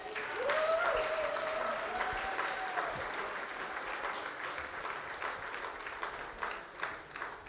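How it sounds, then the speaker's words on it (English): Sustained audience applause fills a hall during a Hall of Fame induction ceremony at Bretton Woods, a steady dense clapping with crowd noise that tapers slightly over several seconds. "Can we give him a big round of applause?"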